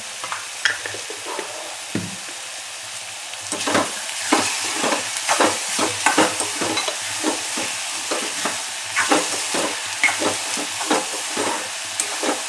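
Chopped onion with salt sautés in a pan, a steady sizzle broken by frequent scraping stirs that grow busier and more rhythmic after the first few seconds, close and clear with no voices.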